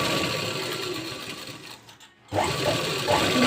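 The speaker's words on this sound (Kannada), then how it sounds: "ಇಲ್ಲಿ ಒಂದು ಸ್ಟಿಚ್ನ ಸ್ಟ್ರೈಟಾಗಿ ಹಾಕ್ಕೊಂಡು" A sewing machine runs a straight line of stitching along a sleeve edge, its steady mechanical whir pausing briefly in the middle before resuming close and loud.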